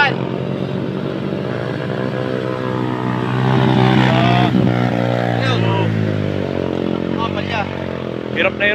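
A Yamaha Aerox scooter and motorcycles race on the Marilaque mountain road, engines whining loudly with rising and falling revs as they pass close, under excited commentary.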